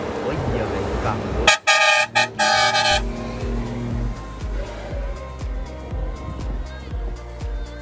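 A car horn honks in several short, loud toots over engine noise, followed by a running motor and a voice talking.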